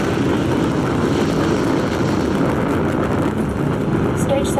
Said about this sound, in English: First stage engine burn nominal